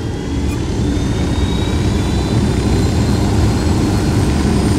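Aircraft rotor and engine noise from a helicopter in the video game Ghost Recon, a steady loud drone with no talk over it.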